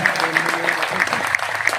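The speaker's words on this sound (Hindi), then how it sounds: "एक बार जोरदार तालियों के साथ सभी स्वागत।" Audience applause at an Arya Samaj gathering in Haryana, welcoming the speakers: steady, dense clapping throughout, fairly loud and close, with a few sharper claps standing out and faint voices beneath.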